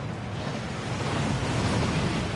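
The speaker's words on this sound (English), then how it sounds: "That waterfall washes away all enchantments." A waterfall rushing in the Hogwarts Legacy video game: a steady, loud, broadband roar of falling water that holds even and unbroken throughout.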